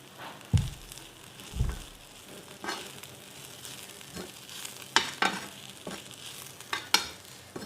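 Mutton kata kat cooks in a pan with salt as it is stirred, giving faint sizzling and frying under a series of sharp scraping and clattering strokes from the spoon at irregular intervals.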